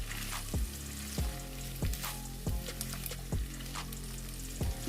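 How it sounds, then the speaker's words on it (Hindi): Vegetable and chicken spaghetti stirred in a sizzling frying pan, a constant loud hiss of frying broken by regular rhythmic scraping strokes of a spoon about every 0.6 seconds, with no talk. "इसको अच्छे से मिक्स कर लेंगे।"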